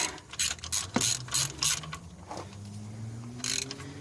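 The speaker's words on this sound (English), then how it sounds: "I thought I'd lube that ratchet, but on the other hand, maybe I just take it back and get a new one." A worn Craftsman ratchet clicks in uneven bursts of quick ratcheting pawl clicks with short pauses between, close and fairly quiet, during a tune-up on a 1993 Geo Tracker.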